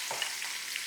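Cumin seeds tempering in hot oil, a brief, faint but steady crackling sizzle with a few small pops, no voice over it.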